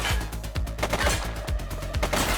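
Gunfire in The Precinct video game: a rapid burst of loud, close shots in a fast irregular volley lasting a couple of seconds, with no voices over it.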